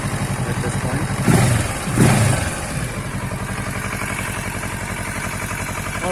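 A Kawasaki Versys 650 motorcycle engine runs at a steady idle, close and loud, with a brief rise in throttle about a third of the way through before it settles back to an even thrum.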